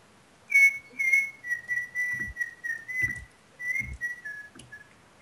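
A person whistles a short, wavering tune up close, a series of sustained tonal notes with brief gaps, alongside a few soft knocking sounds.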